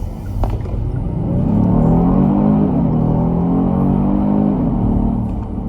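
An all-wheel-drive car's engine revs up close by, its pitch rising steadily as the vehicle gathers speed, with a loud continuous rumble.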